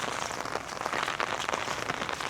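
Steady rain patters densely on a surface, a continuous close hiss of drops with no voices.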